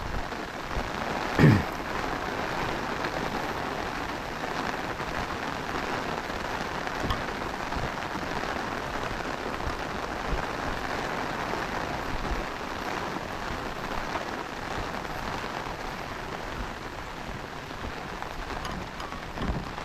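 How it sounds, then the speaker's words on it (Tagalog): Heavy typhoon rain pours down steadily with a dense, unbroken hiss of drops on surfaces, no voices. "Grabe lakas talaga ng ulan"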